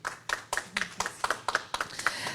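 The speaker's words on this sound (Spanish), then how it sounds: "a quien recibimos con un fuerte aplauso" A small audience at a medical ethics conference welcomes a panelist with clapping, a handful of hands giving sharp, distinct claps in a quick, even rhythm, close and moderately loud.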